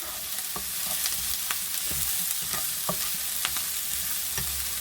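Onions frying and sizzling in a hot pan, stirred with repeated scraping strokes at an uneven pace over a steady, close crackle.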